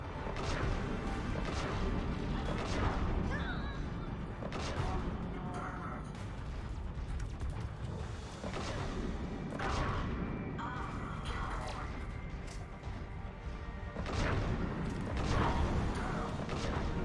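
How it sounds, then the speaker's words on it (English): Heavy cannon fire in the video game Mass Effect 3, loud booming blasts and crashing impacts repeating every few seconds over dense, continuous battle noise with a brief voice underneath. "Friggin' cannon."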